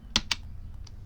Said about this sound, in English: I just press the delete key on the keyboard